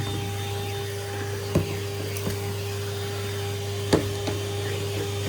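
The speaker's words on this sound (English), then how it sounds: "I really dislike vacuuming this carpet." A vacuum cleaner run over a hallway carpet gives a steady, moderately faint motor whine with a constant hum, broken by two sharp knocks or bumps of the nozzle against something.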